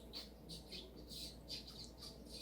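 A voice imitating a seagull's cry from a cartoon, repeated shrill squawks in quick irregular bursts, quiet and close, with no other talk.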